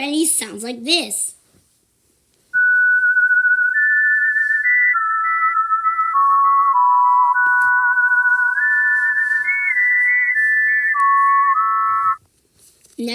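Turner, a character from the Sprunki music game, produces a sustained whistle-like melody of long gliding tones, clear and prominent, after a brief opening burst of voice.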